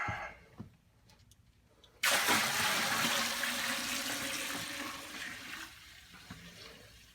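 Four gallons of cold water pour into a hard cider batch with a sudden, loud, rushing gush that keeps going steadily and slowly tapers off, after a quieter start.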